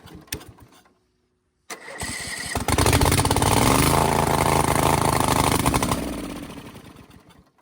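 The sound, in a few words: V-twin engine on a zero-turn mower starting and running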